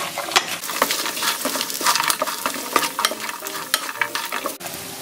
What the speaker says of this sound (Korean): 버무려줍니다.